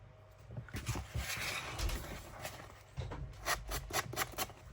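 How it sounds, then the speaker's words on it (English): Sanding a piece of a homemade Halloween craft, heard as close, rough rubbing strokes in two uneven bursts, quiet and without any talking. "That might be easier to sand that bit off."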